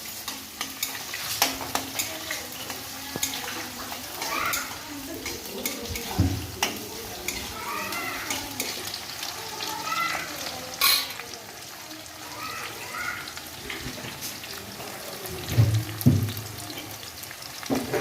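Onions fry for chicken curry in a pan, with a steady sizzle and frequent scraping stirs of a spoon against the metal, close and fairly loud throughout, with no voices.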